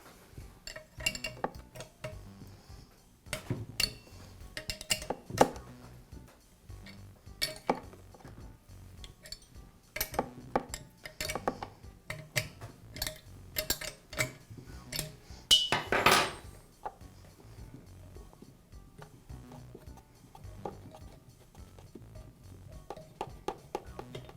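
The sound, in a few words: removing an air compressor tank gauge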